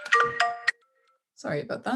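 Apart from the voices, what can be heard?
phone ringtone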